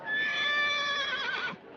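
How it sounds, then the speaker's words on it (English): A horse gives a loud, close whinny with a shaky, quavering pitch that holds for over a second before tailing off, heard alone with no talk. "he's giving you the horse laugh now"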